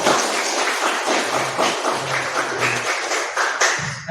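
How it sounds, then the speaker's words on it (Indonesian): A classroom of pupils breaks into clapping for a classmate, a busy, even wash of many hands applauding nearby throughout, with some light thumps mixed in. "Iya, tepuk tangan buat dia"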